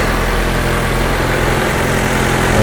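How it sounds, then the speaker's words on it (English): A small petrol engine idles steadily right after a spark plug replacement, a continuous close rumble with a low hum and no talk over it. "we have the engine running right now"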